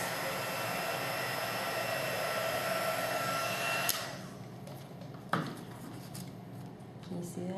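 A heat embossing tool blows hard and steady on stamped embossing ink, a broad close whoosh that cuts off sharply partway through, leaving quieter handling clicks and a brief knock afterward.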